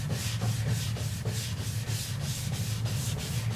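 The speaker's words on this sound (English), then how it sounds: "I'll just start sanding it with the sandpaper." Wet sandpaper rubs back and forth over a pitted Cub Cadet LGTX1054 riding mower hood in steady, rhythmic strokes, loud and close, with no talking.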